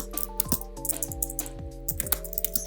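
Keystrokes on a computer keyboard while composing a LinkedIn carousel post, a run of light, irregular clicks over a steady background hum with music-like tones, no talk.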